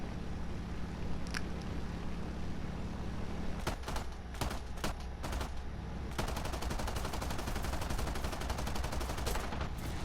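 Rapid bursts of machine-gun fire in a video game aircraft dogfight, short stuttering volleys that grow denser toward the end over a steady engine drone, with no talking.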